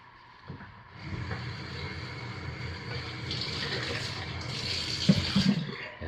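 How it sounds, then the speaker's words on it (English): Lye solution is poured slowly into oils for cold-process soap, a steady close liquid trickle that swells slightly toward the end. "I will start by slowly, carefully pouring the lye solution into the oils"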